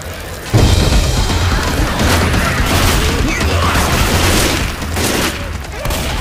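A bio bomb blast in Left 4 Dead 2 modded survival on the Favela map: a loud sudden boom and crashing burst that gives way to dense ongoing gunfire and chaotic game noise, with voices mixed in.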